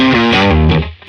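Overdriven electric guitar, a Strat-style instrument played through the lead channel of a Dr. Z amp with no reverb, giving a short, loud, sustained distorted phrase that cuts off sharply before a new note starts.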